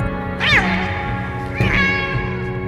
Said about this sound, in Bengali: কোথায় একটা বিড়াল ম্যাও ম্যাও করে বিকট শব্দে ডেকে উঠল যেন